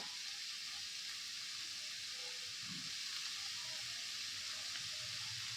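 Onion, tomato, green chili, garlic and curry leaves sautéing in a pan for Sankara fish gravy. A faint, steady sizzle and hiss runs throughout, with no talking.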